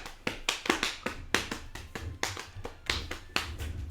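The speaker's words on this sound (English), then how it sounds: "Lilo, listen to my drums." Drums played during a tabletop role-playing game session: a loose, uneven series of sharp, slapping hits, close and moderately loud, some beats coming in quick pairs, with no talking over them.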